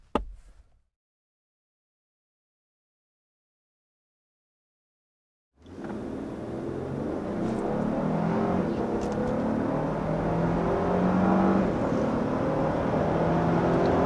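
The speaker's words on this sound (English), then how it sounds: "there's up to 60 miles an hour in this all-new Lexus LX 600" A 2022 Lexus LX 600 Ultra Luxury SUV accelerates hard up to 60 mph after several seconds of silence, its engine and road noise heard from inside the cabin as a steady, building roar.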